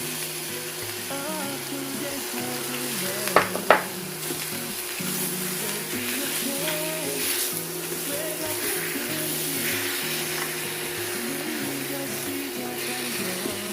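Kimchi frying in a pot as the base for Korean soft tofu stew, a steady sizzle running throughout with a couple of sharp clatters near the start, and music playing underneath.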